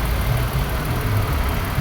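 A 2016 Toyota Camry XLE engine idles with a steady, close, even rumble and a constant broadband hiss, with no voices over it.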